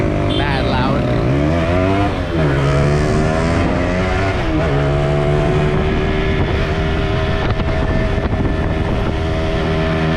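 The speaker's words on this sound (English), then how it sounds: "we're on the DT, which is basically like a dirt bike, which is why it's like mad loud" A Yamaha DT dirt bike motorcycle riding uphill through Medellín's Santo Domingo Savio comuna, its engine loud and close with continuous revving and shifting pitch throughout.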